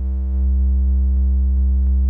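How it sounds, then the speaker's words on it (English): Moog Labyrinth synthesizer putting out a steady, overdriven sine-wave tone, a loud sustained drone with stacked harmonics and faint periodic ticks, heard alone with no talking. "So as you can hear, the sine wave is overdriving."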